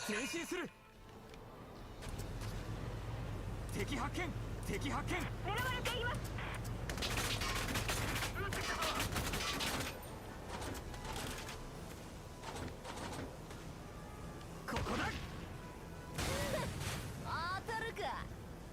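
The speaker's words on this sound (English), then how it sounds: "It's a mortar round. You can't dodge it." Mortar rounds and gunfire crackle in bursts during a Valkyria Chronicles 4 battle, with a low rumble under repeated sharp volleys, while people talk over much of it.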